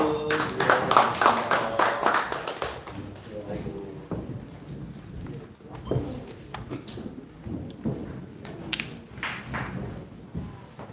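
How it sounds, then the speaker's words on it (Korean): A crowd applauds during a guided visit to the Anglican Church in Ganghwa-eup, Korea, with scattered, uneven claps under and after talking voices nearby. "박수"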